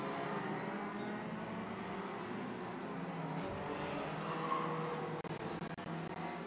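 Hornet class race cars battle for third place at the 2018 Northwest Hornet Nationals at Evergreen. Their engines make a steady, moderately distant roar that holds for several seconds, with no voices.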